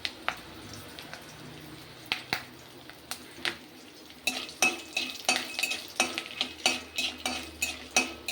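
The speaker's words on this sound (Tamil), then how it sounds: "சும்மா எண்ணெயில் போட்டு வறுத்துடலாம்." Dried turkey berries crackle and pop in hot oil while a spoon stirs them, the sharp clicks and scrapes growing denser and louder in the second half, with a soft sizzle beneath.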